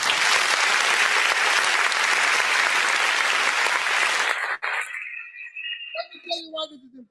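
Loud, dense applause from a large crowd at a political rally in Kano fills most of the clip, then fades out and a few other sounds follow.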